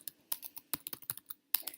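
Typing on a computer keyboard, a quick irregular run of crisp, close key clicks with short pauses between bursts, heard alone in a quiet room.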